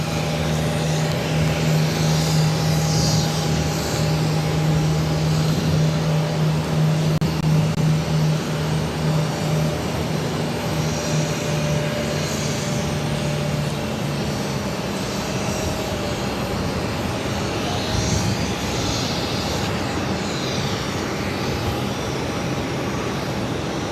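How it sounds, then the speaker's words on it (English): A Dash 8 turboprop airliner arriving from Halifax at Boston Logan airport gives a continuous engine drone with a sustained tonal hum, loud and steady, and no voices in the recording. "coming in from Halifax on the Dash 8"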